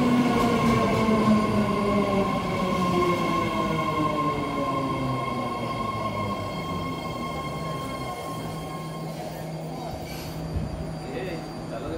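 A nine-car, three-door Bay Area Fleet of the Future Orange Line train bound for Richmond stands at Fremont station. Its electric motors whine in gliding tones over a steady rail rumble, and the whole sound fades gradually.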